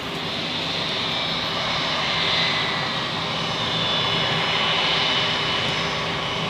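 A Vueling Airbus A321 arrives at Zurich Airport from Barcelona, its engines a steady, broad roar at an even level throughout, with no voices.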